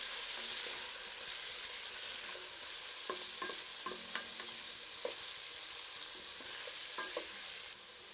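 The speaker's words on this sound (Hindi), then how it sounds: "आंच मध्यम कर लेते हैं और चिकन को 3 से 4 मिनट अच्छी तरह भून" Pieces of chicken fry in a pan over medium heat: a steady, quiet sizzle with intermittent sharp scrapes and taps of stirring.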